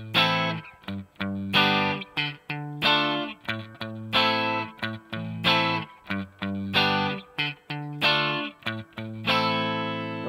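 An electric guitar with light distortion plays a chord rhythm, punchy strummed chords in steady repeating bursts with short gaps, loud and close, no talking.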